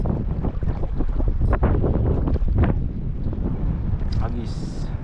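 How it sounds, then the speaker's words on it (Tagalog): Strong wind at sea near a reef, buffeting the microphone in heavy gusts for the whole stretch, with brief voice sounds mixed into the blustery roar. "Lakas na rin ang hangin dyan oh."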